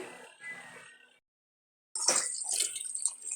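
New potatoes being washed in water, first a soft splashing and dripping, then a short silence, then louder sloshing and rubbing close by.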